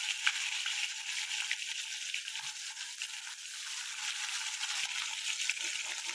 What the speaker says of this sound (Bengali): তুমি মাছগুলোকে নুন হলুদ দিয়ে খুব ভালো করে ভেজে নেবে।